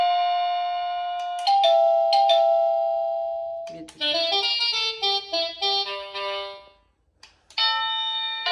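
A Byron DBY-22317UK wireless doorbell plays a series of chime tunes, clear bright bell tones ringing one after another with short gaps, sustained notes and a brief silence before the next melody starts, loud and close.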